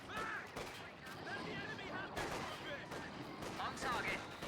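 Gunfire in the video game Company of Heroes 2, with dense repeated shots and bursts crackling through a busy battle soundscape, loud and continuous throughout.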